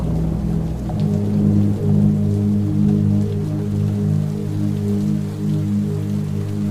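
A cartoon storm scene with rain pouring heavily and steadily beside a river, a constant hiss and patter under a low, droning rumble, loud and unbroken throughout.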